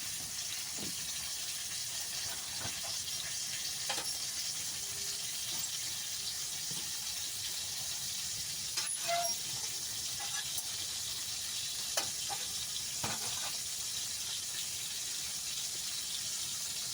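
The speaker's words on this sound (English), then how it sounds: "listen to that sizzle" Ground beef frying in a pan gives off a steady, close sizzling hiss with scattered small pops and crackles, and no one speaks over it.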